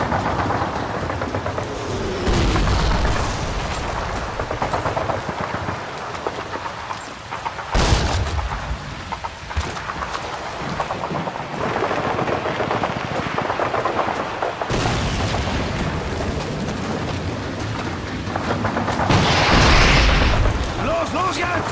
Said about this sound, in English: Those enemy mortars.